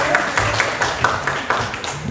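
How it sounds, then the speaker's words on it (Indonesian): An audience at a school teachers' gathering claps for Pak Susilo. The applause is brief, scattered and moderately loud, with uneven claps at close range. "Tepuk tangan dulu untuk Pak Susilo."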